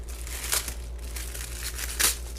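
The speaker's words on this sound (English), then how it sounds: "Wax paper." Wax paper from a knife box crinkles and rustles in two brief bursts over a steady low hum, fairly close, during the unboxing of a D2 Persian-style fighter knife with a camel bone handle.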